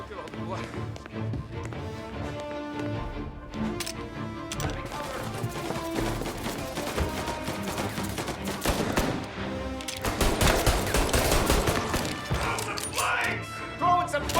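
Gunfire rattles in a 1938 mafia shootout in Mafia: Definitive Edition, with dense bursts of shots over game music and effects. Voices shout throughout, and the firing grows heavier toward the end.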